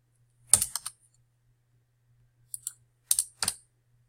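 Short bursts of keystrokes on a computer keyboard, a few quick clicks, a pause, then more taps, crisp and close against near silence, no talking.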